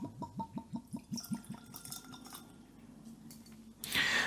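Hazelburn 10-year-old single malt whisky, 46% and non-chill filtered, is poured from a bottle into a glass. A quick run of rhythmic glugs fades into light clinks and trickling, then a louder splashing rush comes at the end.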